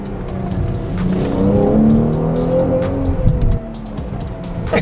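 A Mercedes-AMG GLC 43 engine revs hard and close, a steady loud roar with rising and falling pitch, the tire noise and a sharp burst near the middle making it sound like aggressive driving.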